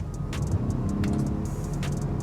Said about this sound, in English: you hear a whine from the electric motor more than you do the engine spooling up